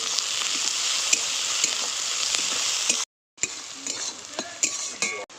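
Chopped onion with a pinch of salt sizzling steadily in a hot pan for a water spinach dish, with a brief gap, then renewed frying and a few spatula clinks against the pan.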